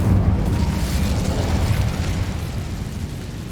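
An Incendio fire spell cast in Hogwarts Legacy on PS5, a loud burst of roaring flame that opens strongly and then settles into a sustained, rumbling blaze.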